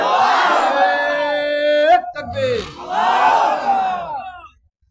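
A large crowd at an outdoor religious sermon roars back a loud, sustained takbir chant in two long waves of massed voices, swelling and then cutting off near the end.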